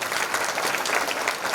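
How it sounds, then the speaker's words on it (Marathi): An audience at a Marathi kirtan breaks into loud, dense applause, steady clapping from many hands filling the space throughout. "महाराजांसाठी जोरदार टाळ्या."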